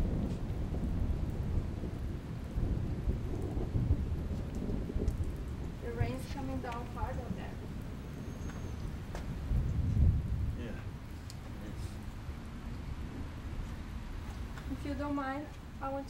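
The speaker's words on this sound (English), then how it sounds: "I want to check the weather report to see when the storm will blow over." Thunderstorm over Seattle with steady rain hiss and low rolling rumbles, while faint voices and other sounds rise briefly in the background.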